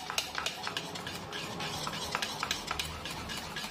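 Egg being beaten into flour batter for egg paratha, a quick run of close, rhythmic taps and swishes as a utensil whisks around the bowl, fairly quiet and without talk.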